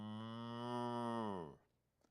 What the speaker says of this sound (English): moo. These are cows.